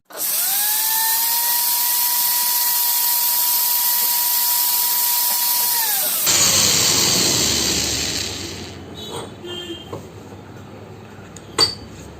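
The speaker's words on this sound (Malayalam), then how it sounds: "ഒരല്പം കൂടെ പോളിഷ് ചെയ്യാം." A small power tool whirs at a steady high pitch while polishing a mixer motor bush, running loud for about six seconds before spinning down, followed by faint clinks and a sharp tap of metal parts.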